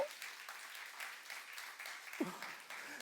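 Faint, steady applause from a church congregation during a youth-group sermon at a Korean church, a soft wash of many hands heard from a distance, with a brief voice-like sound near the end.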